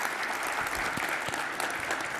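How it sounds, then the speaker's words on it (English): Audience applause fills the room at the close of a panel discussion at CES 2020, a steady dense wash of clapping with no voices over it. "One more round of applause, please, for a great discussion."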